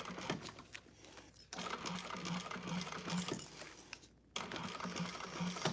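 A sewing machine runs a handbag seam with a 1/4 inch allowance along the straight top edge, a close, steady rapid whirring stitch broken by two brief pauses.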